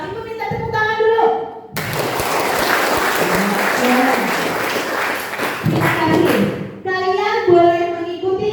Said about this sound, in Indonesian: Ibu minta tepuk tangan dulu.